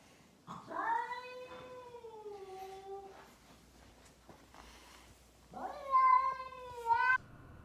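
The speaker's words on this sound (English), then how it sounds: "the yowling noises cats do" A cat lets out two long, drawn-out yowls with a pause between them, wavering and distressed, fairly quiet and alone.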